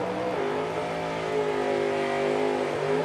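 Drag racing cars at the Oil City Classic in Edmonton, Alberta run loud and steady, a sustained engine note that shifts in pitch early on and holds strong throughout with no talk over it.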